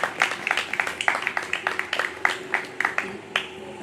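An audience at a Slovenian book talk claps for two authors, a steady patter of hand claps from a small crowd at moderate distance, sparse rather than thunderous, going on throughout.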